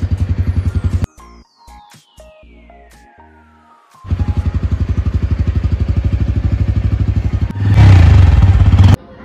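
A motorbike engine idles and revs nearby with a throaty, pulsing putter, cutting out briefly before restarting, then running steadily and rising louder at the end.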